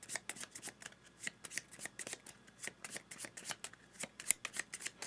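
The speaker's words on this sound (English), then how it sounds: "We will then mix them up in there, and we will shuffle them back up." Cards for a solo playthrough of the NATO Air Commander board game are shuffled in quick, crisp riffling bursts, repeated steadily and close by with no talking.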